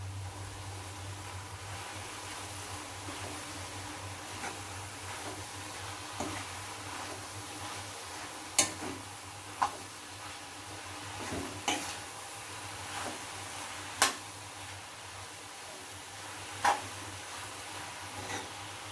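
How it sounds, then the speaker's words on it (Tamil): Cabbage and coconut poriyal cooks in a pan with a faint continuous sizzle under low background hum, and occasional light scrapes and taps of a spoon stirring it, quiet and close, with no voices. "இப்போ கிளறி விட்டுறேன்."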